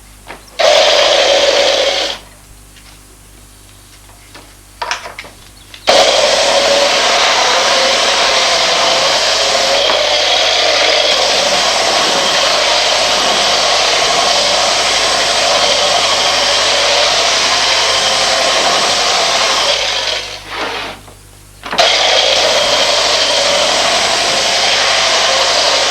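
A power sander works a surface in a French village setting from 1990, a loud, steady motorized whine running for long stretches, stopping twice briefly and starting again.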